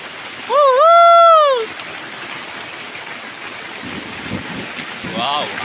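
Heavy rain pours down on a village during a thunderstorm, a loud, steady rushing hiss throughout; a brief wavering tonal cry rises near the start and a fainter one comes near the end.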